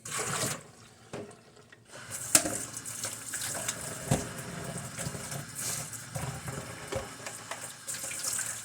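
Tap water runs steadily into a sink while a cup is rinsed, a continuous splashing hiss with brief gaps and small knocks, close by and moderately quiet, with no talking.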